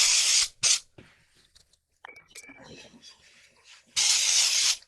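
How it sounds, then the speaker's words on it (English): Nonstick cooking spray hisses from a can into a small cast iron pan in three loud bursts: two short ones at the start and a longer final blast. Quieter clattering and handling noises fill the gap between them. "I'm going to use some nonstick spray"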